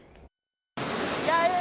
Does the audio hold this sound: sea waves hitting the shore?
yes